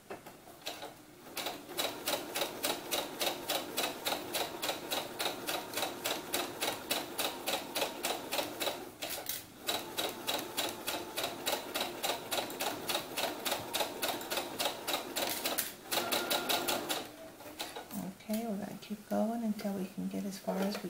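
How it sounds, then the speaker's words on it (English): A sewing machine stitching a doll's eyelet closure blouse runs in a fast, steady rattling stitch for about fifteen seconds, with brief pauses, while someone talks over it near the end. "and then we're just going to keep sewing."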